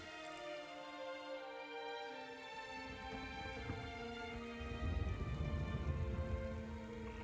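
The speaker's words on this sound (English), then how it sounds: "It's rain" Steady rain in the video game Shadow of the Colossus patters on a surface, a dense even wash of drops over a low tonal background that swells slightly toward the end.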